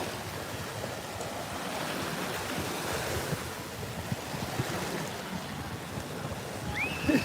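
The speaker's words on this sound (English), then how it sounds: "The water's getting really rough." Rough ocean waves wash continuously onto a beach, a broad roaring surf mixed with wind buffeting the microphone, steady and close throughout with no voices.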